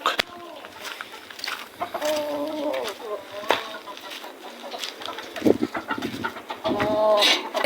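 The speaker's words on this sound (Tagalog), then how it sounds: "Papakain muna ako ng manok." Chickens cluck and squawk busily at morning feeding time, several birds close by with some wing flapping and a voice talking over them.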